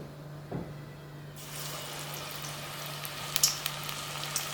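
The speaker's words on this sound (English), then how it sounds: "We are going to fry it in hot oil." Breaded onion rings dropped into hot oil, a steady hiss of frying that thickens into dense sizzling with small crackles and pops, no voices.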